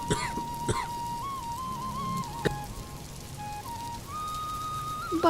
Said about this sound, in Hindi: बाहर कदम रखते ही बर्फीली बारिश ने उसका स्वागत किया।